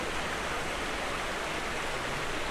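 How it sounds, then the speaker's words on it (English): Castle Clough waterfall in Lancashire pours in a steady, broadband rush of falling water, close and constant with no voices over it. "it is still quite a pretty waterfall nonetheless"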